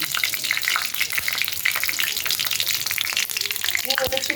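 Bay leaves, a whole dry chili, panch phoron and asafoetida frying in hot oil, a steady close crackling sizzle with bright spattering throughout and a few clinks near the end.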